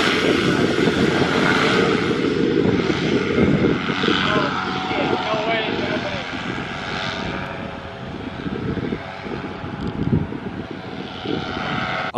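A paramotor engine roars at full throttle during takeoff, a loud, steady propeller drone close by that stays constant throughout, with a person talking over it.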